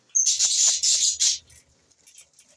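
Budgerigar chicks and adult budgies chirp close by in a dense burst of high, twittering calls for over a second, then fall to a few scattered, fainter chirps.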